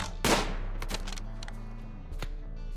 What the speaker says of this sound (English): We are shooting.